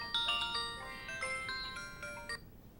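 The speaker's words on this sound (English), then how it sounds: "is that your phone, Shaun?" A telephone ringtone plays a bright, rapid run of melodic beeps in quick bursts, moderately loud over a low background hum, then stops.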